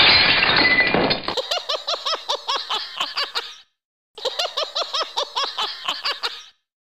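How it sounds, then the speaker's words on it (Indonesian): Cartoon glass breaking: a bright shattering crash opens, followed by a rhythmic run of tinkling, chiming fragments that stops briefly and then resumes, loud and close. "Seperti ada kaca yang pecah."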